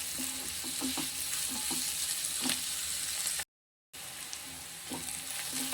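Onions sauté in a little oil in a pan for a bitter gourd stir-fry, a continuous close crackling sizzle with faint stirring taps, broken by one short silent gap.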